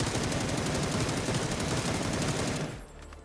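A gun with no attachments fires on full auto in PUBG, a dense continuous burst of rapid shots lasting nearly three seconds, loud and close, then stopping abruptly.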